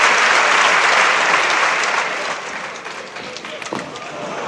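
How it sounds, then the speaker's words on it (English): Crowd applause fills an indoor badminton arena at a men's doubles quarterfinal, a dense, steady clapping that stays loud throughout, easing slightly after the midpoint with a brief sharp knock near the end. "Applause goes to the Indonesians."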